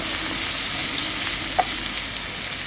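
Shrimp fry in hot oil with a dense, loud, continuous sizzle and hiss, close up, with a single faint clink partway through and no voices.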